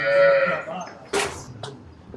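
A cow at a livestock sale lets out a loud, close, drawn-out moo, followed by brief rustles and a short clipped sound.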